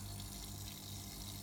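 A small pump pushes water through a school water-pollution treatment model, giving a steady, close, unbroken whir and trickle with no pauses or talk.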